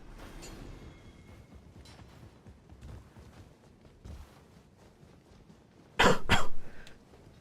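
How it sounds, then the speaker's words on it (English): A single harsh cough with a throat-clearing quality bursts out close to the microphone near the end, after a stretch of quiet room noise. "Pardon the cough."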